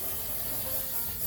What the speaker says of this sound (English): I'm using this One Size waterproof Until Dawn setting spray.